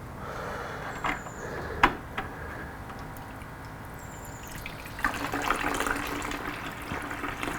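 Water flushing through a Yamaha R6 motorcycle radiator hose with one side of the tube closed off, a steady broadband wash with a few sharp knocks, swelling louder toward the end.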